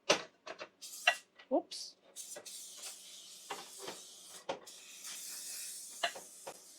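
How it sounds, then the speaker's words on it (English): Olive oil spray misted generously onto a pan during meal prep: several short hissing bursts between quiet kitchen clatter, with someone speaking briefly. "now I'm going to spray my pan with olive oil spray"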